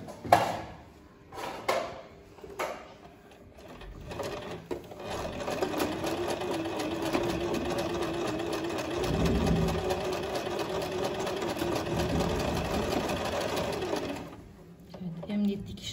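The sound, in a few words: sewing machine sewing a straight stitch on a tablecloth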